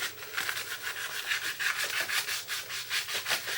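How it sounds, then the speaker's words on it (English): Sandpaper rubbed back and forth along the edges of a small wooden craft block, a steady close scratching in even strokes with no talking. "sand on the face of the block if you want to. I personally just like to go on the edges"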